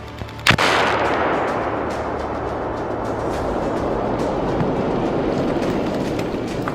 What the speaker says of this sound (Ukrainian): нажимає на підривну машинку і воно знищується. Вибух!